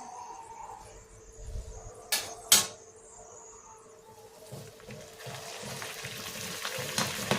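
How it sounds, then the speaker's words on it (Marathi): Puris deep-fry in hot oil, a soft bubbling sizzle that grows louder and denser toward the end, with a couple of sharp clicks partway through. "आता सर्व पुऱ्या तशाच तळून घेऊयात."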